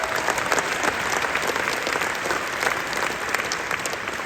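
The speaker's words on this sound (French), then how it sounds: "On applaudit les vice-versa" Dense, steady applause from a large comedy-show audience in a Paris arena, sustained and loud throughout with no break.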